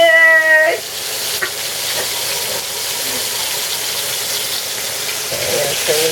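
Lamb chops sizzle steadily in hot oil in a pan, close and continuous, after a short tonal squeal at the start; a few light knocks sound faintly.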